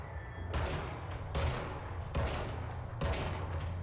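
Gunfire in the video game Control comes as four heavy, evenly spaced bursts of shots, each a loud crack with a rumbling tail that runs into the next.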